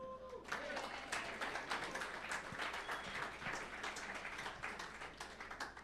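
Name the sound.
audience applauding themselves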